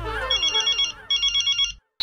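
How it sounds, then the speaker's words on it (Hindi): A telephone rings in two bursts of rapid electronic trilling over a faint background, with a short silence and a sudden new sound at the end. "वो जेठालाल का फोन, अभी बात नहीं कर सकता"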